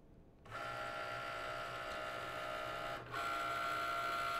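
A Cricut cutting machine scans the registration marks around a sticker sheet loaded on its mat, giving a steady mechanical whir with a tonal hum that briefly dips near the end before resuming slightly louder, with no talking.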